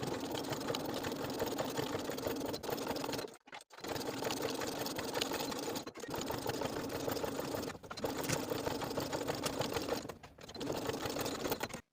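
A sewing machine runs steadily while stitching through layered fleece sweater yokes, broken by a few brief pauses before resuming its even, close-up whir.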